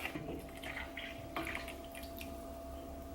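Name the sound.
whipping cream poured from carton into soup pot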